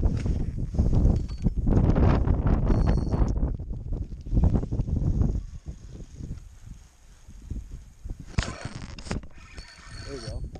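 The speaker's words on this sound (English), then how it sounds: "it's super windy out here, guys, so I don't know if you guys can hear me." Strong wind buffets the microphone on a lakeshore during pre-spawn walleye fishing, a loud rumbling roar that rises and falls throughout, with a person talking under the gusts.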